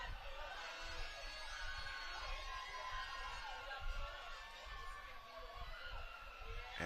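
A softball crowd at the Bahamas Games cheers and whoops from a distance, a faint, steady murmur of voices rising now and then.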